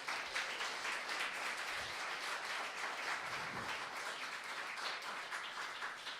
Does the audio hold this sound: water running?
no